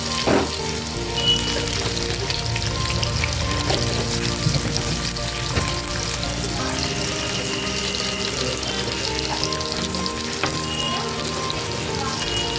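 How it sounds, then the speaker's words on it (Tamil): Mustard seeds crackle in hot oil on a home stove: a loud, continuous close sizzle with a few sharper pops scattered through, no speech. "கடுகு வெடிச்சிச்சு."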